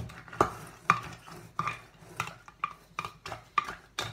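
A spoon stirs green smoothie ingredients inside a blender jar, striking the jar in about eight sharp, evenly spaced clinks over a soft scraping swirl, close and moderately loud with no talking.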